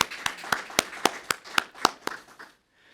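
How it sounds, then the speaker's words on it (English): Scattered audience applause at a university professorship endowment event, a sparse run of distinct hand claps at a steady pace that thins out and stops, leaving near silence at the end. "Let's give a round of applause to the Becks for their incredible generosity."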